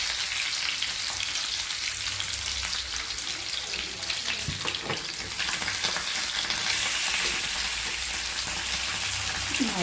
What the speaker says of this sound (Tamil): எண்ணெயெல்லாம் வெளியே தெரிக்கும்.